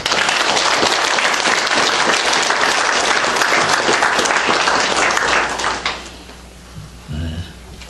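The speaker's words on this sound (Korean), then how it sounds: "김창환 목사님 따뜻한 박수로서 격려해 주시기 바랍니다" Warm applause from a church congregation at a national pastors' fellowship gathering honours a preacher, loud and dense for about six seconds before fading into quieter room sounds and a few brief noises.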